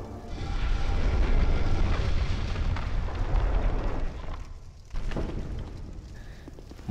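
Fire bombs hurled at urns in the video game Dark Souls 2 burst into loud, rumbling blasts that fill several seconds, with a brief lull before a second eruption.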